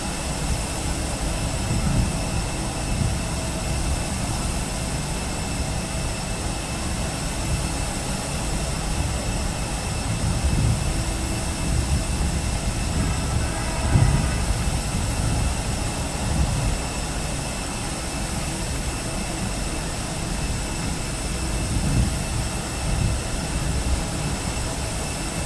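Steady jet engine rumble and whine from an airliner during pushback and engine start in Microsoft Flight Simulator 2020, a continuous even drone with a low roar that holds throughout without pause.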